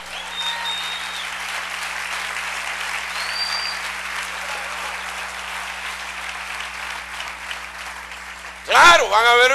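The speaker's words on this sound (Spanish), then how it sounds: "Dale un aplauso al Rey." Church congregation applauding for the King during a Spanish-language sermon, a steady sustained wash of clapping that holds for about nine seconds before a voice breaks in at the end.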